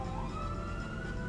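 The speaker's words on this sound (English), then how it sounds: "sirens in the background." An emergency vehicle siren wails in the distance, a single steady tone that slowly rises in pitch over a low background hum.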